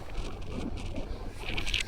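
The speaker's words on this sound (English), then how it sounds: "Sorry, I know it's windy." Wind buffets a microphone in a steady low rumble, with faint gusty rustling and no clear talk.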